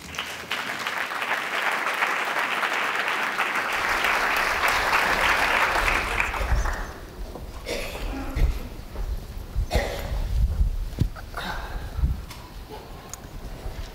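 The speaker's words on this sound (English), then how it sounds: "Big round of applause." Audience at a summit applauds as speakers walk onstage, a dense burst of clapping that fades after several seconds into quieter shuffling, footsteps and microphone handling.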